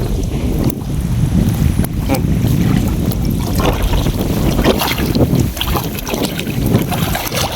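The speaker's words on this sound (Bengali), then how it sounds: "বাতাস প্রচুর পরিমাণে" Strong morning wind buffets the microphone in a continuous low roar over open water during net fishing, with faint voices underneath.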